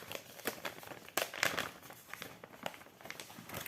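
Crinkly plastic packaging of a cross-stitch kit rustles and crackles up close as it is opened, with irregular sharp crinkles and bursts of handling noise, fairly quiet overall.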